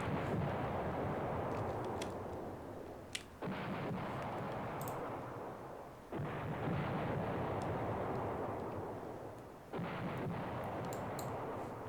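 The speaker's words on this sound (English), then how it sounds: "I'm really happy then that we're bombarding that unit" Heavy artillery bombardment in the war strategy game Command Ops 2: deep rumbling barrages roll on continuously, broken by a few sharp shifts as new volleys land, with no voices.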